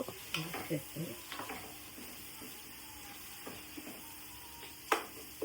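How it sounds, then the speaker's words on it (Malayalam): Ginger garlic paste frying in hot oil for a biryani: a faint, steady sizzle under repeated scraping and tapping of a spoon against the pan, in uneven bursts with one sharper knock near the end. "ഇഞ്ചി വെളുത്തുള്ളി പേസ്റ്റ് ഇട്ടു."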